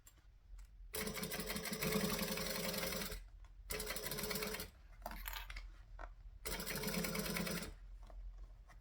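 A sewing machine stitches along the edge of a bag zipper in several loud, steady bursts separated by short pauses, close up with no talking.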